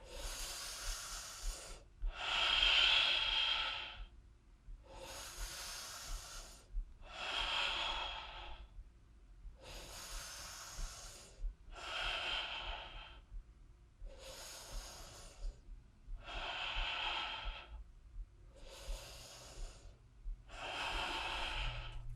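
Heavy, steady breaths during a full body step stool workout, about ten long inhales and exhales in a slow even rhythm, close and clear with no talk.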